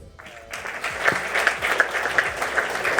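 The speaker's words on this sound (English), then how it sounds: "And another round of applause for our sponsors" Audience applause at the Entrepreneurs Conclave 2015, a dense wash of clapping that starts abruptly after a brief quiet moment and continues steadily, fairly loud and close.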